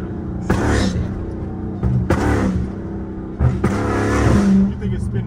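A Chrysler fitted with a flame tune revs in three loud bursts with crackling pops between them, close and rough, while people talk nearby.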